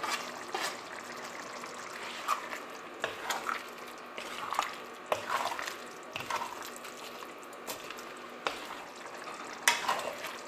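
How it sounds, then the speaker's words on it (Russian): Roe deer ragout with red paprika and garlic simmers and sizzles softly in a pan, with faint bubbling and occasional stirring clinks and scrapes, quiet and steady. "Тушим так еще минут 5."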